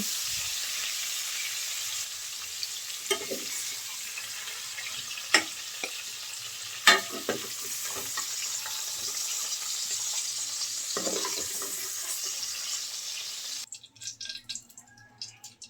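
Potato and cauliflower pieces frying in hot oil, a steady crackling sizzle with scattered sharp pops and utensil clicks, which drops away abruptly near the end.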